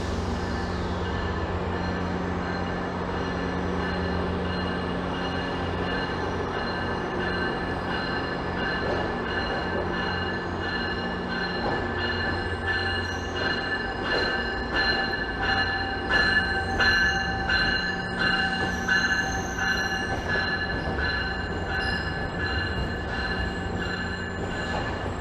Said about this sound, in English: There's a train just rolling in.